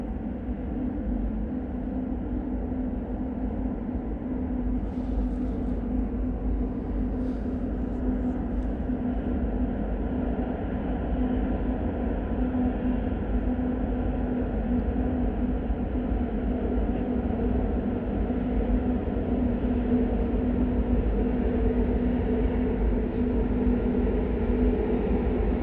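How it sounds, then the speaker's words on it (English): A slow freight train of oil tank cars rumbles steadily past nearby, a continuous low drone with a humming tone that holds evenly throughout, no voices. "There's the train."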